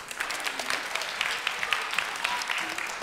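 Children in a church camp service give a round of applause, dense and lively clapping from a small group that holds steady for a few seconds, with faint voices beneath.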